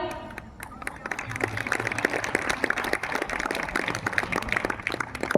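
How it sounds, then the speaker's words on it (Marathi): Audience applause for a child at a rangoli competition held by a local mandal, a steady wash of clapping from a crowd lasting throughout, fairly close and continuous with a few louder bursts. "सगळ्या मुलांनो जोरात टाळी वाजवा."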